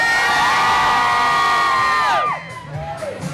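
A crowd of fans at a record signing for the pop group Sugababes cheers and whoops loudly in a sustained burst of high-pitched shouts that cuts off after about two seconds, leaving fainter background crowd noise.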